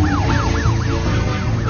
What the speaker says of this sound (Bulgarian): Сирените пеят.